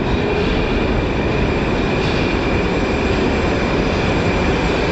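A Tashkent metro train in Uzbekistan pulls into an underground station with a loud, steady, even rumble and roar that fills the platform throughout, with no one talking.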